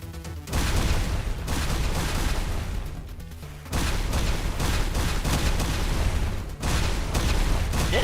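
Heavy booming blasts and gunfire in the video game Girls' Frontline 2, arriving in loud dense bursts with brief drops between them, like a barrage of explosions in combat.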